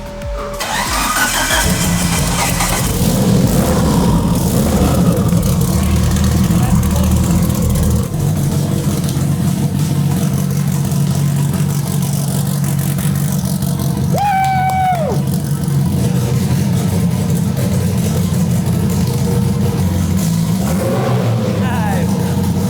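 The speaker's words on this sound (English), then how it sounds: "It's very loud with that exhaust. Started it up, it's running." Mitsubishi Evo built to about 2000 horsepower cranking and firing into a loud, steady idle through a harsh exhaust, the running engine dominating throughout while a voice speaks briefly near the middle.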